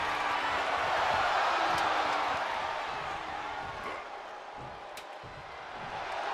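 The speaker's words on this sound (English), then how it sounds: "The sound of this crowd is deafening, and he's asking for more." A video game crowd cheers during a WWE 2K22 ladder match, a steady, dense, loud roar that swells slightly and then eases.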